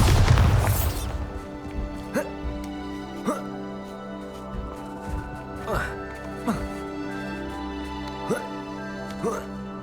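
A Bombarda explosion spell is cast in Hogwarts Legacy with a heavy opening boom, followed by a string of sharp popping bursts at roughly one-second intervals over a sustained game music backdrop, with a voice talking.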